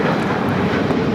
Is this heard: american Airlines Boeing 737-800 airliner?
yes